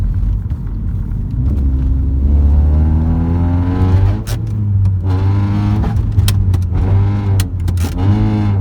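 A modified tuned car drifts around a roundabout, its engine droning loud and close with rising and falling revs and rumbling throughout, and sharp bursts come as the throttle is worked.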